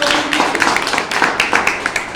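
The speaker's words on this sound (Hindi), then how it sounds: "जोरदार ताली होनी चाहिए हमारे सर।" Audience at a speech event in Kanpur claps for an honored guest, a dense burst of hand claps with sharper individual hits standing out, loud and close throughout.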